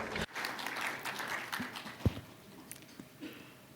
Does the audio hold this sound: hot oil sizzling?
no